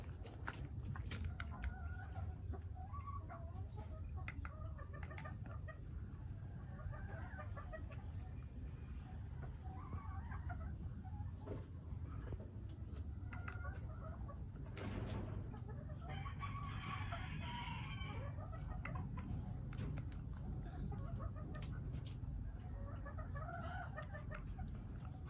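Hens and gamefowl kept in a coop, including a broody hen just moved inside, cluck softly and steadily at a distance over a constant low background hum, with a rooster crowing faintly in the mix.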